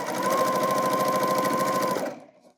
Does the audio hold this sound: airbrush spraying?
no